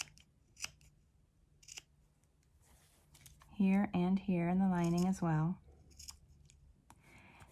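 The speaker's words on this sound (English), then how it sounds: "I'm clipping these inner corners with my nice sharp Kai scissors" Crisp snips of sharp Kai scissors clipping inner fabric corners click a few times, pause while someone speaks briefly, then resume with more sharp cuts.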